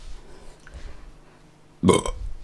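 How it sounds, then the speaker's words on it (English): One short, sharp human belch, loud and close, bursting out after a stretch of quiet room tone. "I'm gonna burp. I need to burp."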